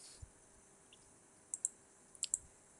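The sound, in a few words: computer mouse click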